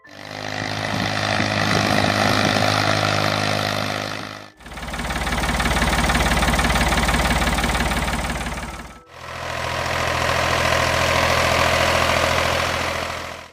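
A Ford 3000 tractor's engine runs in three separate takes, each a steady, loud, low idling rumble with a knocking diesel character.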